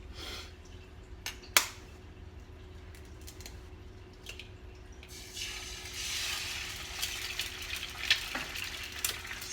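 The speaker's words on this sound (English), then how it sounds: "So I am frying 1 egg" Steady sizzling and crackling of a single egg frying in a pan, with a few sharp clicks and clinks, growing a bit louder midway.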